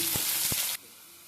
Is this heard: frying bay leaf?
yes